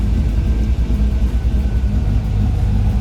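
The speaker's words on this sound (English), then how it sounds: "fans just went on at 196. Both are running." Radiator cooling fans on a car with an LSA supercharger swap run with a steady low whooshing rumble close by, alongside the idling engine.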